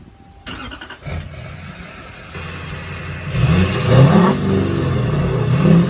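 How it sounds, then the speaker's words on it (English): A truck engine cranks and catches, then idles and revs up in a few rising surges, loud and close, with no talking. "get a buddy to start your truck"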